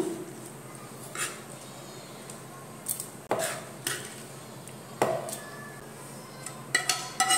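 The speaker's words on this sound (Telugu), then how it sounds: "ఇప్పుడు ఇవన్నీ చల్లారిపోయాయండి, మిక్సీ జార్లోకి తీసుకుంటున్నాను." Cooled ginger chutney ingredients are tipped into a mixie grinder jar: sparse clinks and scrapes of utensils against the container, with a few sharp knocks and short quiet gaps between them.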